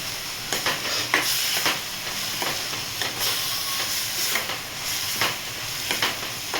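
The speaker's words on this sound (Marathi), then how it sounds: "छान असं तेल सुटेपर्यंत परतून घेणार आहे।" Chopped onions and tomatoes sauté in hot oil in a pan, a steady close sizzle punctuated by regular scraping bursts of stirring, with no talking.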